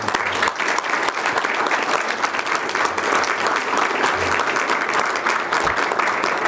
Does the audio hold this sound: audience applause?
yes